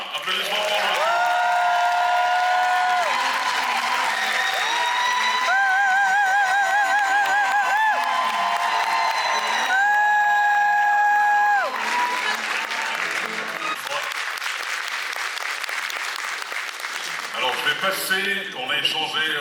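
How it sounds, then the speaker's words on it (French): Audience at the Mboa Paris 2024 event applauding Monsieur Trésor Goulin, steady sustained clapping and cheering throughout under loud music with sustained tones. "Applaudissements pour lui."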